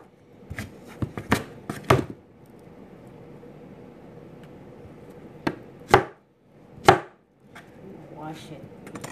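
A knife slices through a pumpkin in sharp, close cuts, a quick cluster at first and then a few spaced, heavier chops with quiet pauses between.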